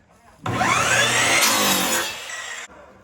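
A power saw trims the end of a board of pallet wood, a loud rasping cut that starts abruptly, runs for just over two seconds and stops sharply.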